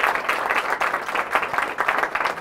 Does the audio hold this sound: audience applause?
yes